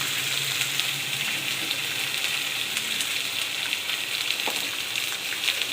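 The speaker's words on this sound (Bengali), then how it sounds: "ভালো করে কষছি, এটা ভালো করে কষে নিতে হবে" Ginger-garlic paste and spices frying in a pan for a banana-flower curry, a steady close, even sizzle with faint scraping and no talk.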